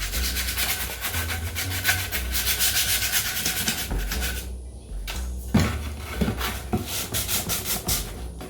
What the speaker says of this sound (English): Once you have sanded the surface sufficiently, just wipe off that excess dust.